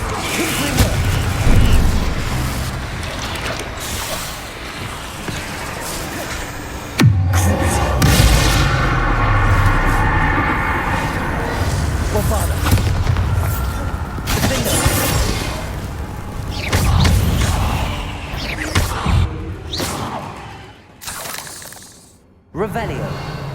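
Confringo explosion spell in the video game Hogwarts Legacy, loud blasts and crackling bursts amid continuous game noise and music, with a voice speaking over parts of it.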